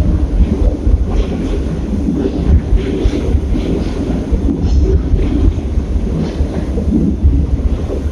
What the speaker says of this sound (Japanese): ということで、電車は折り返し線に入ってきますね。